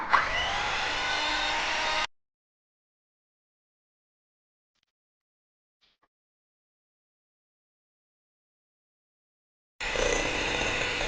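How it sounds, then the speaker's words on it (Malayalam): An electric beater whirs loudly through a batter mixture in two steady bursts, one at the start and one at the end, with near silence between. "ഇനി നമുക്കിത് പതിയെ ബീറ്റ് ചെയ്തെടുക്കാം."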